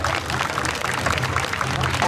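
Audience applause rings out after a Shonan Nagisa-ren dance performance at the 29th Magome Bunshimura cherry blossom festival in 2019, a steady, dense wash of clapping that holds evenly for the whole stretch.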